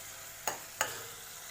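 Chopped green chili fries in a pan with a soft, steady sizzle, broken by two quick scraping stirs in close succession.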